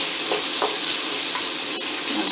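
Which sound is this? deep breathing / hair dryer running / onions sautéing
onions sautéing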